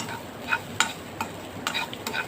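Quick scraping stirs in a pan over a soft, constant sizzle as coconut is fried, with a few sharp clinks.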